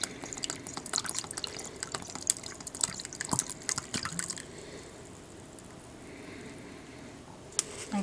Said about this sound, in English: So you're going to use the whole bottle of soy sauce.